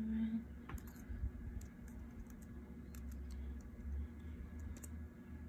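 Typing on a computer keyboard, a quiet, irregular series of soft clicks close by over a low steady hum.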